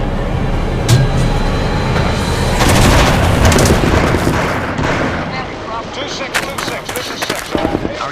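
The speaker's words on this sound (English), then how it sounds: "Our units in the field have been calling in for artillery support all day." Artillery fires repeatedly at a fire support base, loud booming blasts and rumble rolling through a dense, noisy background, with voices talking over the dramatized soundscape.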